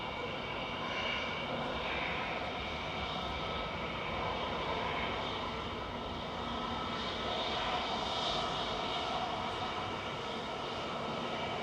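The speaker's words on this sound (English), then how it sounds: "And this is EasyJet 2046 from Reus. GEZPB. An 8-year-old A320 Classic." EasyJet Airbus A320, an eight-year-old aircraft arriving at Manchester Airport, its steady jet engine roar holding at moderate distance throughout with no break.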